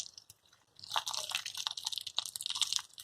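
Soft, steady crackling and light sizzling from shrimp cooking gently in a hot pan, starting quietly and thickening into a continuous gentle fizz.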